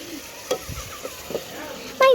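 Goat head curry being stirred in a pan, with a few soft scraping and clinking strokes over a faint sizzle, and a brief louder clatter near the end.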